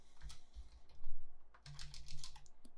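Typing on a computer keyboard to enter a volume name: a quick run of close, fairly soft key clicks in two bursts, with a low hum underneath and no talking.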